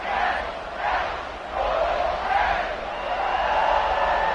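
A large stadium crowd in the College Football 26 video game roars steadily at kickoff, a dense, swelling wash of cheering voices that rises and falls slightly without a break.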